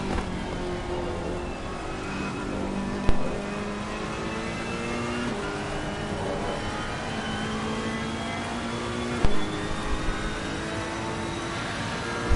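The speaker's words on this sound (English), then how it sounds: "driving his Ferrari" A Ferrari race car engine at Imola in a racing video game, in the wet, drones steadily with rising pitch as it accelerates, a continuous loud whine with a couple of brief bumps and shifts.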